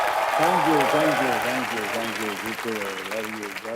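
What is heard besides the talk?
studio audience applause for Dharmendra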